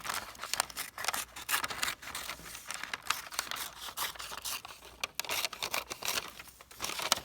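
Scissors cut out a crayon drawing of a barn owl on paper, giving a dense run of close snips, crinkles and rustles that carries on steadily without a pause.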